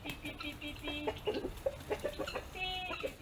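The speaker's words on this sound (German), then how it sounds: "Hühner aller Arten" Chickens of mixed breeds clucking near at hand on a traditional mountain farm, a run of short, uneven clucks and throaty calls with no talking.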